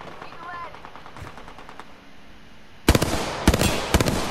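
Bursts of rapid automatic gunfire from the Apex Legends video game, loud and close with several sharp volleys in the second half after quieter ambient game sound, with faint speech in the background.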